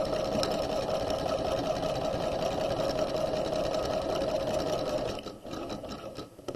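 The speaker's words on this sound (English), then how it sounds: "sew across the shoulder seam" A sewing machine runs steadily across a shoulder seam with a close, even motor whir for about five seconds, then slows and stops with a few uneven final stitches.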